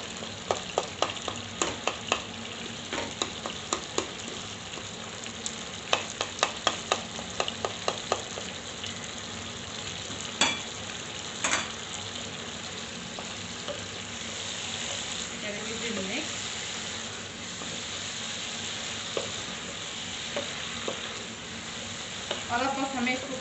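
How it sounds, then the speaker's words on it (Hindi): Chicken karahi stir-frying with spices in a pan: a steady close sizzle runs throughout, punctuated by repeated sharp scrapes and clinks of a spatula stirring, with occasional louder spatters. "और अब बस हमें इसको भूनते ही रहना है"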